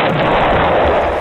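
A gunshot in a video game, a loud, dense blast filling the whole moment with no talking.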